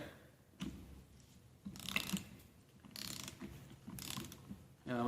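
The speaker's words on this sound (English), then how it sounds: "I'm going to take my torque wrench in my right." Torque wrench slowly tightening the flywheel nut on a Toro engine during reassembly, giving faint mechanical clicks and ratcheting bursts at a close, quiet workbench with no talk.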